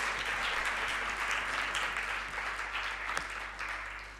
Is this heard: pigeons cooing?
no